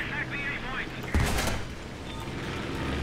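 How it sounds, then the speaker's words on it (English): Gunfire in the War Thunder video game, a burst of loud shots and impacts erupting suddenly midway amid constant engine rumble and game noise. "I'm getting shot at."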